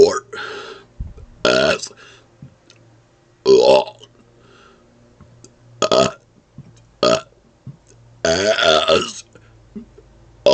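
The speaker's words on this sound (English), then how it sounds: "I was challenged to burp for" A person burps repeatedly in loud, drawn-out bursts separated by short pauses, close to the mic, with a few spoken words mixed in.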